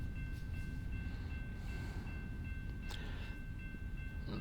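A freight train passing by in American Truck Simulator, a steady low rumble of rolling rail cars with faint clatter, heard at a distance beneath a constant hum and occasional higher tones.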